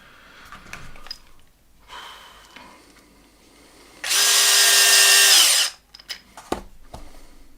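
A power screwdriver driving screws during an RC car build, one loud sustained whir of about a second and a half, close up, between quiet handling noises and breathing.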